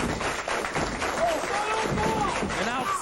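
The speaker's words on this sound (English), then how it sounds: "An outstanding crowd here in the television studio this afternoon" A crowd in a wrestling television studio cheers and claps steadily throughout, a continuous, fairly close wash of clapping and raised voices with someone talking over it.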